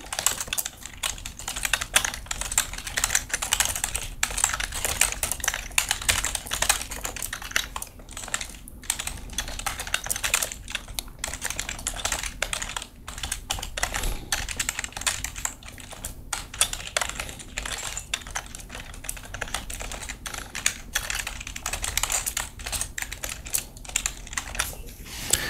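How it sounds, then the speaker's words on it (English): Steady, close typing on a computer keyboard at a Windows machine, a continuous patter of quick key clicks with no talk over it. "we can check if that's been installed by typing the following"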